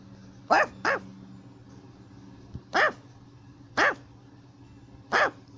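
Pomeranian dogs bark in short sharp bursts: a quick double bark, then three single barks spaced about a second apart, fairly close and loud over a quiet background hum.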